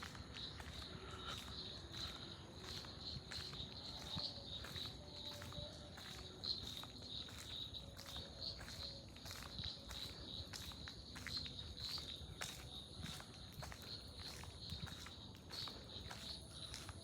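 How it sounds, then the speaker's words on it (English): Shrub frogs calling at dusk at Mawata near Battaramulla, a dense chorus of short repeated high chirps and clicks pulsing steadily over soft background noise, with no voices. "Lots of shrub frogs around."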